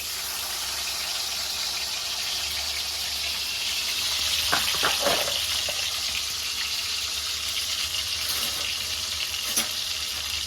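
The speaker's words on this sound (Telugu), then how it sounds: "ఉల్లిపాయలు, పచ్చిమిరకాయలు వేస్తున్నా." Onions and green chillies fry in oil for a chicken curry, giving a loud, continuous sizzle with a few stirring scrapes midway, close and steady.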